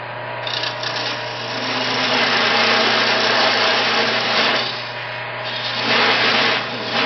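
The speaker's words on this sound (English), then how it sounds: "And I'm beveling the cut so that you're going to get a fit." Power tool bevelling a cut into a piece of wood, a steady, loud rasping and grinding that runs continuously near at hand, swelling slightly in the middle and again toward the end.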